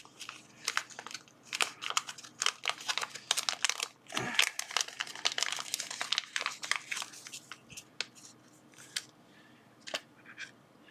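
Plastic and paper packaging for small electronic parts from a mail delivery is opened, giving a run of close, crisp crinkles, rustles and tearing snaps that thin out toward the end.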